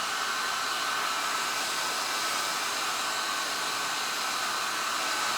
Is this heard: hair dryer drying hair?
yes